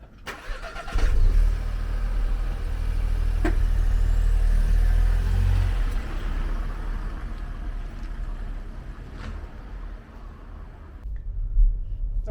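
A 2021 Skoda Scala 1.0 TSI starts and pulls away, its engine droning as it drives, a low steady hum swelling then easing, with a few clicks and faint road noise and no talking.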